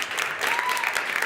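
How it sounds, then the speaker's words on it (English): A short burst of audience applause during a Star Wars: The Force Awakens appearance, dense steady clapping at moderate distance with faint talk mixed in. "Can we give him a round of applause"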